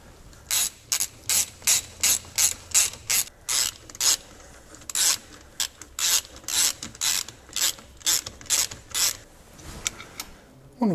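Ratchet wrench tightening nuts on the differential bushes of a Triumph TR6, a steady series of about twenty short, close, rasping clicking strokes with brief pauses between them and no talking.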